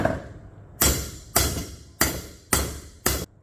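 Five sharp, loud metallic blows from a ball peen hammer striking a joint on a set of handlebars being modified, evenly spaced about half a second apart, each ringing briefly before the next strike.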